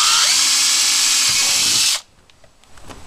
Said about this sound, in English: drilling my next hole